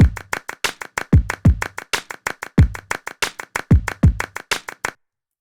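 A programmed clap pattern in Ableton Live plays alone for about five seconds, steady rhythmic hits with a few fuller, lower-bodied claps accenting the pattern, then stopping cleanly.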